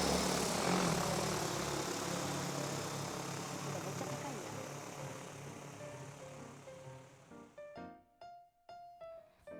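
A DJI Agras T50 agricultural drone flies over a wheat field, its loud, steady rotor whine gradually fading as it moves away, leaving a quieter stretch with a few intermittent sounds near the end.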